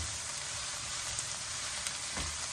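Curry leaves frying in hot oil for an egg and fenugreek tamarind curry make a steady, close crackling sizzle that holds at an even level throughout, with no voices.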